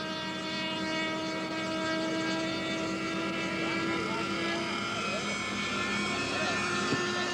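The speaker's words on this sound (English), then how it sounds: "Here's Bob Fiorenzi of Brooklyn, New York, flying his jet hangar Hobbies A4 Skyhawk, powered by a Rossi 65 ducted fan engine and a Tom Cook's Dynamax ducted fan." A Jet Hangar Hobbies A4 Skyhawk radio-controlled model jet with a Rossi 65 ducted fan engine, heard as a continuous high whining drone with steady harmonic tones, fairly loud and constant at a 1980s fan fly-in.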